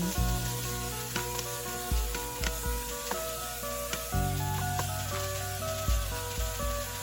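Pork sizzles steadily while frying in a pan for a pork bone curry with pumpkin, with a constant hiss and occasional scraping knocks from stirring.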